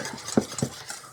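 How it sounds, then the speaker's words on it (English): A whisk clicks twice against a bowl while mixing ingredients for a creamy ranch chicken dish, brief close taps over a soft background. "I'm just going to whisk this together"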